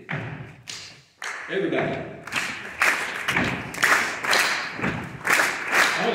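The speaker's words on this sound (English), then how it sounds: "So your part is to stomp and to clap" A concert choir audience stomps and claps together in a loose, repeated rhythm, with several broad bursts of thuds and claps, mixed with voices and speech in a large room.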